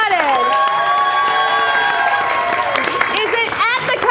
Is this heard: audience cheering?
yes